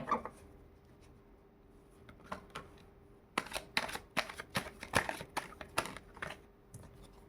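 Tarot cards being shuffled by hand, quiet scattered riffles and taps at first, then a denser run of soft, rapid card flicks close by.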